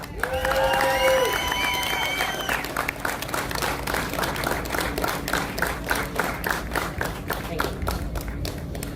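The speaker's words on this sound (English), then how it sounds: "Let's give her a round of applause" A rally audience applauds a speaker, a steady patter of many clapping hands throughout. Cheers and raised voices rise over the clapping near the start, and a clear whistle-like tone sounds early on.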